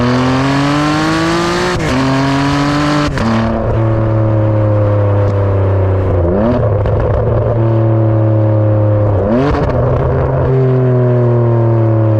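A high-pitched Ferrari 599 V12 engine screams through rising revs toward 8,500 RPM, shifting gears on its 6-speed single-clutch paddle-shift transmission with brief dips, then blips sharply a few more times, loud and close.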